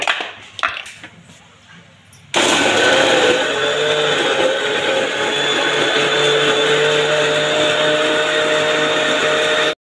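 A kitchen blender whirs loudly and steadily, blending grapes with a glass of water into juice; brief handling knocks come first, then a sustained high-pitched motor roar runs for several seconds before cutting off abruptly.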